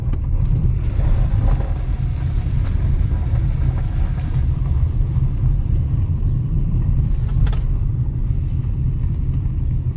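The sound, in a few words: Kia Sorento driving on a gravel back alley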